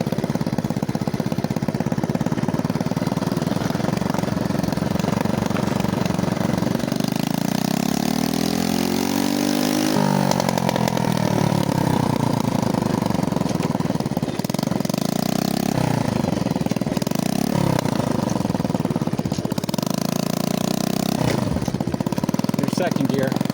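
A vintage 1980 Honda Mini Trail 70 small motorcycle engine buzzes loudly and continuously while riding, rising and falling in pitch through gear changes, with a rider talking over it.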